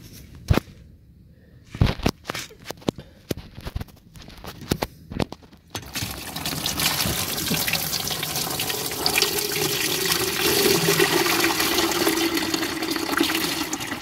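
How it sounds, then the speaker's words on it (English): Coolant drains from an Alfa Romeo 147 GTA radiator hose pulled off its hard line into a pan. Sharp knocks and clicks come first, then a continuous splashing gush of liquid pours steadily, close by. "we're just going to pull this off the hard line, and all the coolant should come out into"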